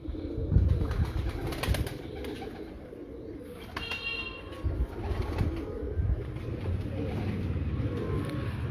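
Teddy pigeons coo and flap their wings in flight, the breeder's birds flying alongside his other pigeons outdoors, with soft cooing and bursts of wingbeats over steady background noise.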